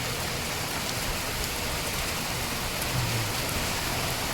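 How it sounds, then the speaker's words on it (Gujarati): Heavy rain pours down during a windy storm, a steady dense hiss that stays even and close throughout with no break or voices. "વરસાદ ફૂલ ચાલુ થઈ ગયો છે, તમે જોઈ શકો છો."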